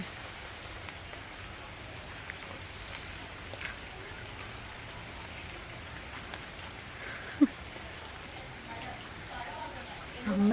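Steady rain patters softly as a constant background hiss, with an occasional louder drop or knock; a voice is faintly present.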